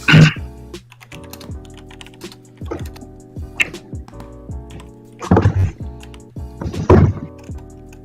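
Keystrokes on a computer keyboard during a live draft stream, clattering in irregular bursts with heavier thunks around the middle and end, close and fairly loud, with a faint voice now and then.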